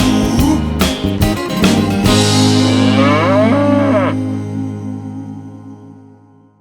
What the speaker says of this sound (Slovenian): Zdaj lahko se pase in muka brez skrbi.